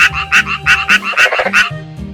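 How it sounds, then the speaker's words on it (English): A frog croaking loudly and close, a rapid series of about eight rhythmic, buzzy calls with a pulsing beat and a low throaty undertone, alone with no voices. "Frog."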